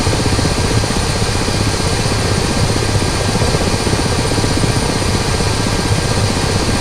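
A Ka-50 helicopter lifting off near a runway in a flight simulator, its rotor and engine giving a loud, steady, close whir with a rapid, even chop, constant throughout with no voices.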